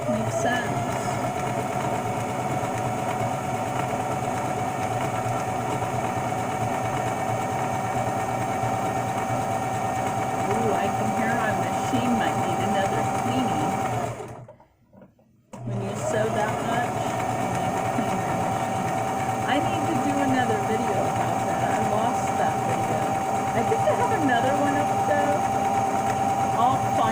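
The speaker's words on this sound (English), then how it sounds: "I will sew top skirting front and back" A sewing machine stitches fabric skirt panels, front and back pieces of an underskirt and top skirt, in a steady close mechanical whir that runs continuously, drops out for about a second midway, then resumes at the same pace.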